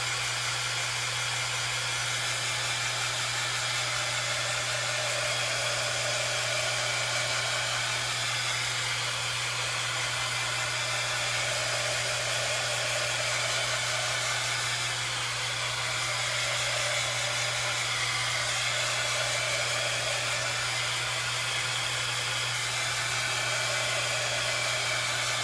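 Steady hair dryer blowing to dry a DIY pizza pan decoration, a continuous loud whooshing roar with a constant low motor hum that runs unbroken throughout, with no voices.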